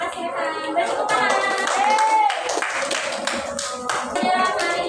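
Students in a classroom clapping their hands together in a brisk burst of rapid applause, with voices calling out and chattering over the clapping.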